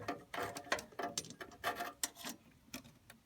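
A screwdriver loosens the screw holding the igniter on a Carrier WeatherMaker 9200 furnace, giving a quick series of close, light metallic clicks and ratcheting ticks with no talking.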